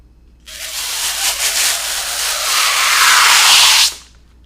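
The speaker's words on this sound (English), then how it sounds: "it's got a covering, so I'm gonna pull the covering off" A plastic covering is pulled off a cord in one continuous crackling, hissing rustle lasting a few seconds, close and fairly loud, then stopping abruptly, with no talking.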